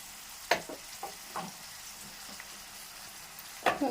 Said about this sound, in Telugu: మంచిగా గోల్డెన్ కలర్ వచ్చేంత వరకు మరి ఫ్రై చేసుకోవాలి ఆనియన్స్ అనేది